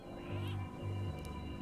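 Scruffles the cat meows in the video game Return to Monkey Island, two drawn-out low meows in quick succession over steady background music.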